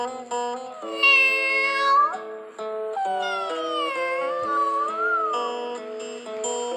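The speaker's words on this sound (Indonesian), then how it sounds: "tiba-tiba seekor kucing datang memakan sajian" A cat meows in a run of drawn-out calls with sliding pitch, clear and fairly close, with short gaps between them and no talking.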